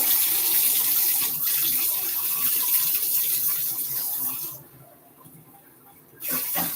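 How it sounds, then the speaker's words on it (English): Steady rush of hot water pours into a cup for several seconds, then drops off briefly before resuming. "Put some hot water in a cup."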